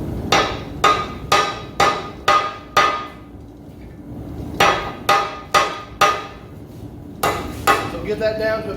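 Metal ringing under a hammer on an anvil while a blacksmith shapes a fishtail end: three bursts of sharp, evenly paced blows, five then four then a few quicker strikes, each clanging bright and close with a short decay.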